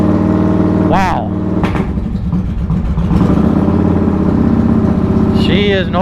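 Straight-piped motorcycle engine running loud and close with a throbbing low rumble, briefly rising and falling in pitch, while a person talks over it.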